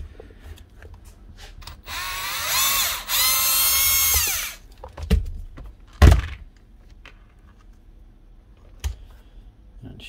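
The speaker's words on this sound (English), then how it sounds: "For getting that screw out, left hand drill bit." A power drill spins a left-hand bit into a badly stripped screw in a Milwaukee M18 FNCS18GS crown stapler, a loud whirring burst of about two seconds followed by scattered knocks and clunks of handling.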